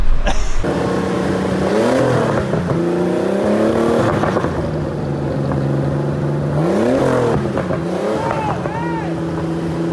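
A Porsche 911 930 Turbo with a pop-and-crackle exhaust pulls away, its engine rising and falling through several revving pulls, close and loud, with people talking over it.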